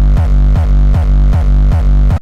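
Synthesized kick drum processed with a flanger and wide stereo spread, tuned near G. It repeats as a loud, booming pattern of about six evenly spaced hits with a sweeping, whooshing tail, then cuts off abruptly.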